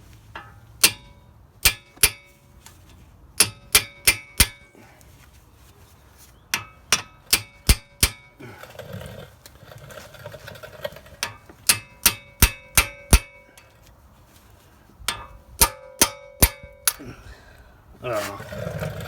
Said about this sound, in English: once it's there, you just hit it really hard and it gives it a shock to the left